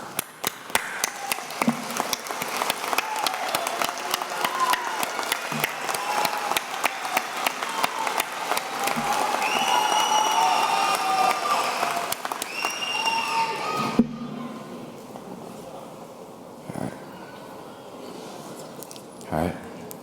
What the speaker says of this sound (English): find your support, and give them a round of applause